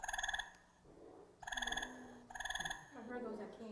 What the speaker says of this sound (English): Those are spring peepers.